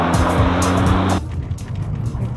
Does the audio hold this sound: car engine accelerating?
yes